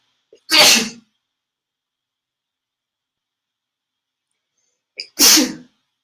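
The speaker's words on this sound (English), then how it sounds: "I'm getting ready to sneeze." Two sharp sneezes, close and loud, separated by several seconds of silence.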